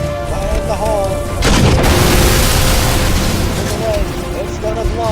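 A heavy explosion booms through a flight combat video game, a sudden loud blast that rolls on over sustained rumble, with radio-style voices and tonal game sounds around it.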